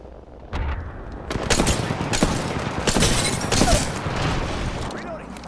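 Gunfire from the Apex Legends video game, dense sharp shots and bursts in quick succession, loud and close, mixed with explosive cracks and in-game voices talking over it.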